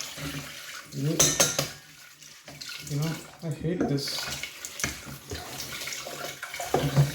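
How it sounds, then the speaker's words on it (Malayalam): Dishes and cutlery clatter and clink under running water at a home kitchen sink, with irregular knocks of pots and pans up close. "എനിക്ക് ഏറ്റവും ബുദ്ധിമുട്ടുള്ള പരിപാടിയാണ് ഈ പാത്രം കഴുകുന്നത്"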